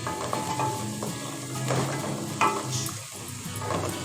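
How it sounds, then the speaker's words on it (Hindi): Ginger and garlic sautéing with half-cooked onions in a pan: continuous close sizzle with spoon stirring and light scraping against the metal, steady and fairly loud throughout. "हम इसमें अदरक लहसुन डाल देंगे"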